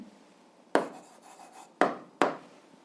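Pen or marker strokes on a board or paper while an answer is written out for an algebra exercise: three sharp, close scratching taps, each fading quickly, with a short softer scribble between the first two.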